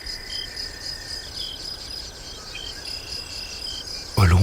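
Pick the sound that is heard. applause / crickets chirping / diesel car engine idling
crickets chirping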